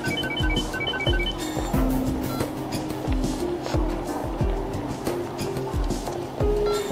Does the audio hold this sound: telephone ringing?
yes